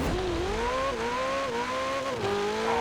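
A sports car engine in Forza Horizon 4 revs hard and climbs through gears during a launch, loud and close, the pitch rising then dropping at each shift.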